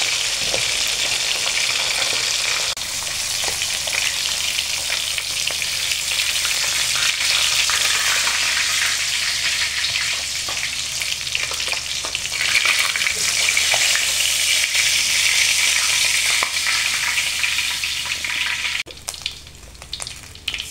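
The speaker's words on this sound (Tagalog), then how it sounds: "Prituhin na natin yung isda." Tilapia sizzles and crackles steadily in hot oil, loud and close, with occasional stirring noises and a brief quieter stretch near the end.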